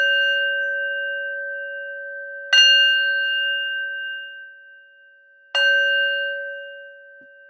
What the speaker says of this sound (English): And I'll end the sit with the bell.